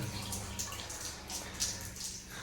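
A tap at beach toilets runs strongly, a steady faint rush of water splashing with small dripping accents throughout, no talking.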